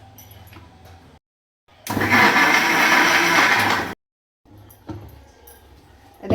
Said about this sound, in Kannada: ಈಗ ಇದನ್ನು ಮಿಕ್ಸಿಲಿ ರುಬ್ಕೊಂಬರ್ತೀನಿ.